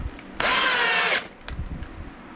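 An 18-volt cordless Warrior drill from Harbor Freight whirs loudly in one steady burst of just under a second, spinning up and stopping cleanly, followed by a few faint knocks in a workshop.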